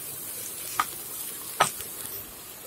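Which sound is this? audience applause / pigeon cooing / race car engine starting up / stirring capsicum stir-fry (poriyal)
stirring capsicum stir-fry (poriyal)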